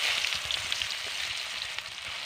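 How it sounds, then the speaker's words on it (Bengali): Chopped onions hit leftover oil from frying fish and sizzle loudly and steadily, with a dense crackling hiss and soft low thumps underneath. "মাছ ভাজবার পর যে তেলটা বেশি হয়ে তেলে ওই তেলে রান্না করব। ওই তেলে দিয়ে দিচ্ছি কেটে রাখা পেঁয়াজ।"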